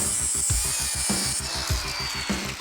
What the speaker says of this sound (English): I'll weld up our crack, go back and grind it smooth